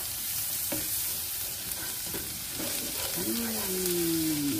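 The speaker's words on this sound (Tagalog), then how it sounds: "ilagay natin yung ating garlic, luya" Garlic and ginger fry in hot oil in a pan for a seafood and vegetable dish, making a loud, constant sizzle with stirring scrapes, then a gliding squeaky tone over the last second and a half.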